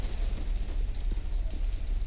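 Steady rain falls outdoors as a dense, continuous low wash, with no voices and only faint scattered patter over the constant roar.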